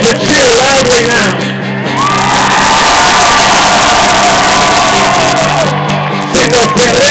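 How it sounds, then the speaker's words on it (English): A concert crowd at a show shouts, whoops and cheers loudly and steadily with no letup, a dense roar of many voices close by. "It's appropriate to cheer loudly now."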